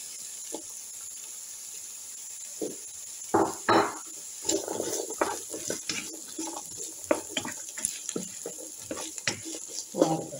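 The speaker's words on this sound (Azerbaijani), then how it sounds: "Biraz qovururam belə" Onions, carrots and potatoes fry in a pot for green lentil soup, a soft, close, crackling sizzle broken by scraping and clattering bursts of stirring, with no talk.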